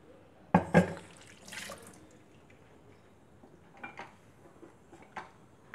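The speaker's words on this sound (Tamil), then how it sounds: "நான் மிக்சியிலேயே தண்ணி விட்டு இதில் ஆட் பண்ணிக்கிறேன்." Water splashes into a cooking pan in a short pour from a mixer jar, followed by a second brief gush, then quiet clinks and small kitchen noises.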